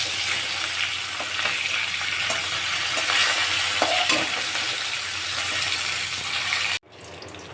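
Hilsa fish pieces fry in hot oil in a pan, giving a loud, continuous close sizzle with occasional stirring bumps that cuts off abruptly near the end.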